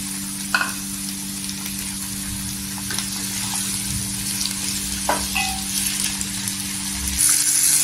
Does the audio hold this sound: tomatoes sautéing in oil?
yes